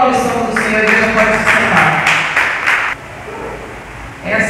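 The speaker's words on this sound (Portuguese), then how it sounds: "Aplauda a missão do Senhor" A church congregation claps together during a worship service, with dense applause that fills the room for about three seconds, then drops off and briefly swells again near the end.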